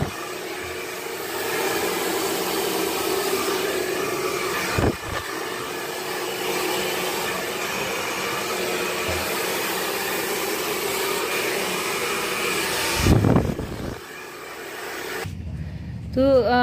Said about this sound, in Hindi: बहुत अच्छे से सेक्शन करना है और बहुत ही अच्छे से हमें जो है ब्लो ड्रायर वापस से करना है।